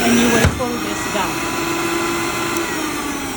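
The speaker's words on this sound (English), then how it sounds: "You will turn the vacuum form on, and you will pull this down." A Sta-Vac vacuum forming machine for celluloid matrix fabrication switches on with a brief onset, then settles into a steady, loud motor whine and airflow hum that runs continuously.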